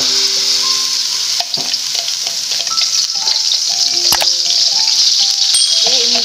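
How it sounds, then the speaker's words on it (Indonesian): Ground spice paste for potato fritters fries in a little oil in a pan, a loud, close, steady sizzle with occasional clinks and scrapes of stirring. "kita goreng terlebih dahulu bumbu yang sudah kita haluskan tadi dengan sedikit minyak ya"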